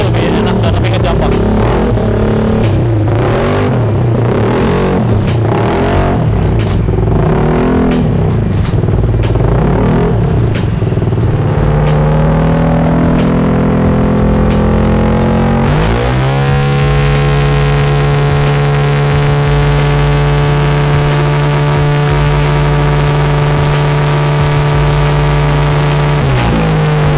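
A Yamaha Aerox 155 scooter fitted with an upgraded CVT set and radiator revs hard on a dyno, rising through repeated surges before settling into a loud, sustained high-rpm drone with a rising pitch, close and continuous.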